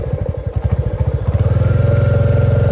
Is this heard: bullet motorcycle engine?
yes